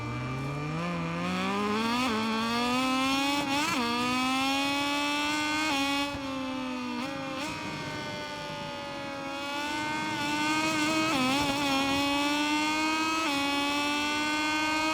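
Moto2 racing motorcycles in the MotoGP 21 video game scream continuously at high revs, pitch rising through the gears with sharp drops at each shift and brief dips into corners, loud and steady with no talk.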